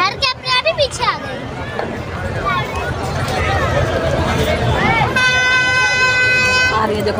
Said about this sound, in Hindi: देखो हॉर्न मार रही है